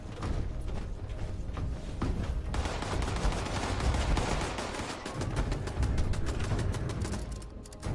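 Automated defensive turrets in Fallout 76 firing rapid bursts of gunshots, a dense, loud rattling fusillade that intensifies midway and continues without speech.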